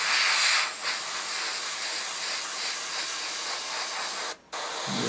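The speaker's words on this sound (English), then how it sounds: "so if the airbrush was clean this would be coming out even faster" An airbrush spraying paint onto a figure gives a steady, close hiss of air that drops away for a moment near the end before resuming.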